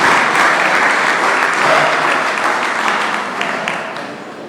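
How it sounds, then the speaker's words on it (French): An audience at a Baptist church conference applauds a music group, a loud, dense burst of clapping from a crowd that holds steady and then gradually tapers off. "de les applaudir, s'il vous plaît."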